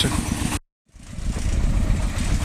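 A Shifeng SF-240 tractor pulling a homemade trailer rumbles steadily at close range, cuts out for a brief moment of silence, then picks back up into a continuous chugging drone.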